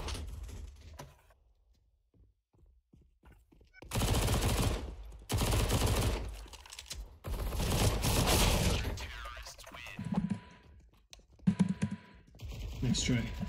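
Automatic gunfire from a CS:GO competitive match on Mirage fires in several loud, sustained bursts. Keyboard typing runs underneath, and the bursts are broken by quieter gaps.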